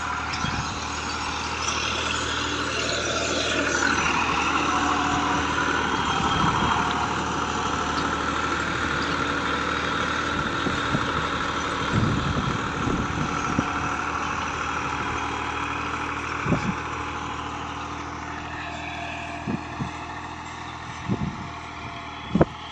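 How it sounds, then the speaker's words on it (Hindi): A Massey Ferguson 260 tractor engine runs steadily at a constant drone, working with a harrow disc in a field, with a few sharp knocks and clanks near the end and no talking. "चेक करें वीरो ट्रैक्टर आ रही है।"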